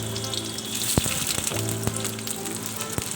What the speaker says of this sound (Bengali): এবার আমি দিয়ে দিচ্ছি সবজিগুলো ভাজার জন্য।